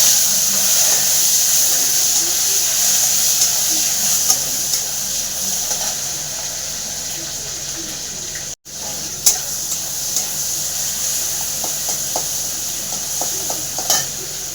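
Tomatoes frying in oil in a pan with bay leaf and cumin, a steady close sizzle with occasional stirring clicks, no talking.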